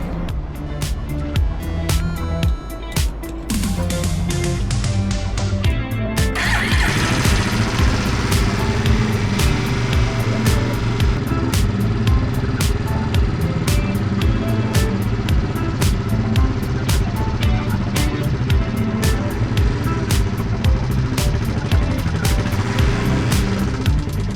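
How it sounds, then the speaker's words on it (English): Suzuki GN 250 motorcycle engine with worn, clicking valves runs loud and close, a chugging single-cylinder beat with rapid ticking clicks that steadies after a brief rev near the start. "Let's make some clicky noise with our shit valves."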